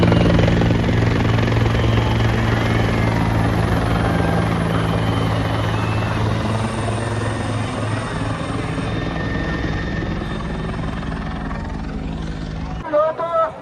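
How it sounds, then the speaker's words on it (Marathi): A helicopter flies overhead above the crowds at the Prayagraj Sangam on Mauni Amavasya, its rotor drone loud and continuous before easing slightly toward the end, with faint voices beneath. "आता आपण जाऊ आता बघ परत हेलिकॉप्टरच्या मागं."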